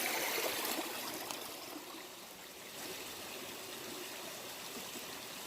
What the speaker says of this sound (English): this cute little brook right here